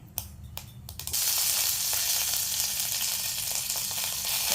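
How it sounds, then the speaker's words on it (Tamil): After a couple of soft clicks, mustard seeds hit hot oil for tempering tomato chutney and burst into a loud, continuous sizzle that carries on close by. "இப்போ அந்த கழுக போட்டு தாளிக்க போகிறோம்"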